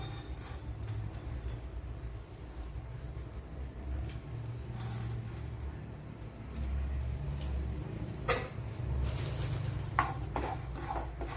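Red chillies and coriander seeds dry roasting in a pan for a fish curry: soft scraping and stirring over a low background hum, with a few sharper clinks of utensil against the pan later on.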